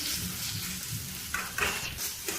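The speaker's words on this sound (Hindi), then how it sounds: "इन सब चीज़ों को हमें हल्का सा फ्राई करना है।" Onions frying with ginger garlic paste in a pan, a steady close sizzle with a few scrapes of stirring near the end and no talk.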